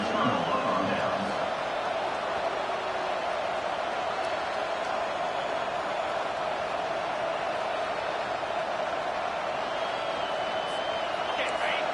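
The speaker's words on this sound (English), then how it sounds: "Listen to this crowd just shaking the girders of this place trying to help their defense" A football video game stadium crowd roars in a steady, dense wash of cheering and noise that holds throughout, with faint whistles and shouts above it.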